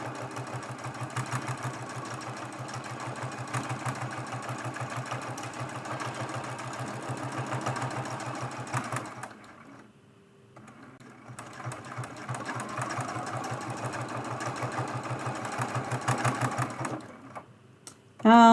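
Sewing machine stitching a quilted Thanksgiving mug rug, a steady fast mechanical whir with rhythmic needle thumping that runs for several seconds, briefly pauses, then resumes at a close, even pace.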